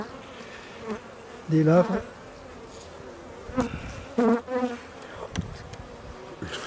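Honeybees swarm and buzz around an opened hive full of brood and eggs, a steady drone with sharper nearby passes rising as the colony grows agitated, while someone speaks briefly over it.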